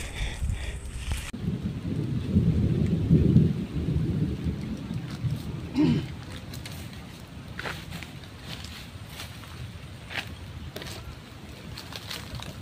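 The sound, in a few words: thunder and rain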